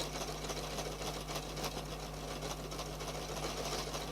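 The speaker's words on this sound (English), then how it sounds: "we don't use these marvellous decorative stitches that we've got on our machines very often" Domestic sewing machine running steadily while sewing decorative stitches in a circle, a continuous close mechanical whir with an even hum and no pauses or talk.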